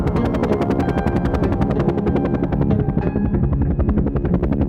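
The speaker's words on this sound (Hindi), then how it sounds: "बाबा ने उस तरफ देखा और हेलीकॉप्टर उस तरफ मोड़ दिया।" Cartoon helicopter flying and banking, a loud steady rotor chop thumping at a fast even rhythm throughout, close and dominant with no talking.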